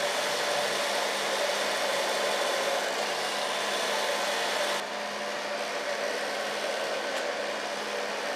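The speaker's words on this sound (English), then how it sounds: "Starting with a large brush and just polishing the hair till it's dry." A hair dryer blows steadily and loudly while hair is brushed dry with a large round brush in a salon, a constant airy roar that shifts slightly in pitch midway.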